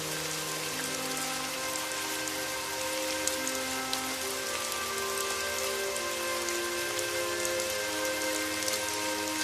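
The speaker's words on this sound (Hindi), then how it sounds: "ये वाली बारिश अभी शुरुआती बारिश है ना, ठीक नहीं है।" Steady rain falls in a Hindi bird cartoon, a dense continuous patter on surfaces, loud and unbroken throughout, with faint tonal background music beneath.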